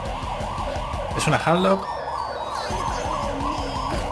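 Ambulance siren sound effect played during a Spanish-language Hearthstone stream, a brief wailing siren sweep rising over steady background game music and someone speaking.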